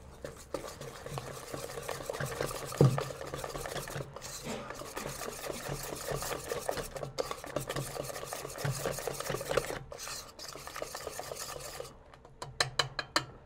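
Cake batter is mixed with oil in a machine, giving a continuous close whirring and scraping with small knocks, a few brief dropouts and some louder clatters toward the end; no voices.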